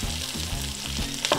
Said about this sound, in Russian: пока креветки поджариваются